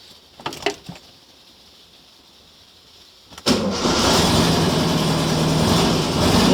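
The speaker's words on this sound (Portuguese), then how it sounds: "agora eu vou dar a partida para vocês verem como que é a partida com o ponto inicial correto" A VW Variant engine with correctly set ignition timing is cranked, catches quickly and settles into a loud, steady idle. A few faint clicks come first, then the start bursts into a dense, continuous running roar.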